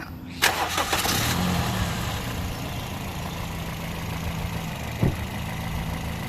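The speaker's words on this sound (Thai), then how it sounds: "เดี๋ยวลองมาฟังเสียงเครื่องกันนะคะ" A 2008 Toyota Vios automatic engine cranks and catches, then settles into a steady, smooth idle with a low hum; a brief click is heard near the end.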